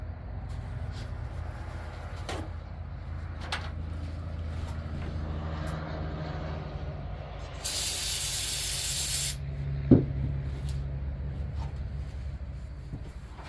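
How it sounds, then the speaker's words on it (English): An aerosol can of brake cleaner hisses in one short burst of a couple of seconds, spraying oily bolts during a K24A engine build, heard close over a low steady background hum with scattered clicks. "Spray them off with some brake clean because they're still covered in oil."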